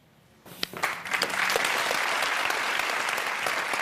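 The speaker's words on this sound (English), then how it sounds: "You know why these people are clapping when you walk out?" A television talk-show studio audience breaks into applause after a quiet start, individual claps building quickly into loud, sustained clapping that holds to the end.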